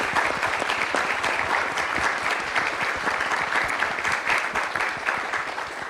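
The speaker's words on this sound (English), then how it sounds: "Let's give these folks another round of applause." An audience claps for panelists after a discussion at UH-Downtown on Hurricane Katrina twenty years later, a full, steady round of applause that stays loud and only eases slightly near the end.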